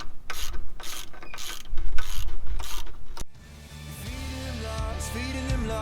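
A hand ratchet cranks down a bolt on a Kawasaki KRX 1000 side-by-side, giving several seconds of steady, rhythmic close clicking before the sound cuts to music.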